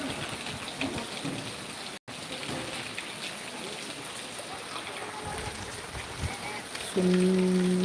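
Night rain after Deepavali pours steadily outdoors under high-mast lighting, a dense constant patter with a brief dropout near the start and a steady electronic tone joining at the end.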